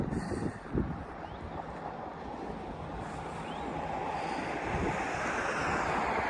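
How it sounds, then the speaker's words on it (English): Steady wind roaring across an open microphone at the Great Yarmouth seafront, with surf washing in the background, a continuous broad rush that builds slightly louder toward the end. "it is quite windy"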